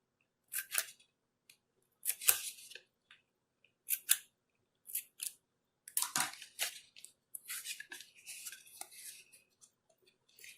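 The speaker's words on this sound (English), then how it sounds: "Cut some notches in the tape." Scissors snip notches into tape while building a mini piñata, giving a string of short, crisp close-up cuts in irregular bursts, with no talking.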